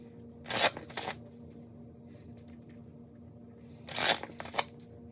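Two quick riffle shuffles of a deck of cards, each a pair of short crisp fluttering bursts, close up with quiet gaps in between.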